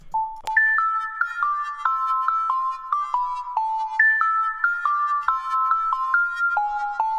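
A tweaked fairy-style synth preset plays a bright, dry bell-like melody with no delay, a steady run of clean plucked notes stepping up and down over several seconds.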